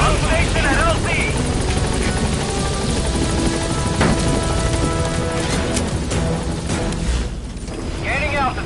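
A helicopter arrives at a landing zone in the video game Metal Gear Solid V, its loud rotor thumping continuously throughout, with brief radio-style voice chatter on top.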